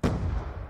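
A single heavy gunshot from the video game Call of Duty: Black Ops 2 Zombies, a sharp loud boom with a short rumbling tail that fades quickly.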